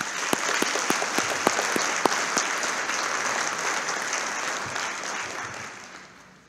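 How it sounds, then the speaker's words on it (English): An audience at a dentists' association meeting applauds its staff, a thick wash of clapping with crisp hand claps early on that holds steady, then slowly fades out toward the end. "Let's have a round of applause for our staff."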